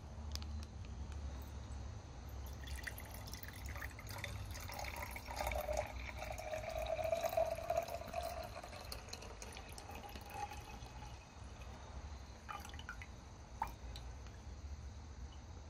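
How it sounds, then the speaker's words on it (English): Water is poured one-handed from a bag into an MRE drink pouch, a soft, steady trickling and splashing that swells in the middle and tapers off, fairly quiet and close with no talking. "wish me luck on this one-handed pour"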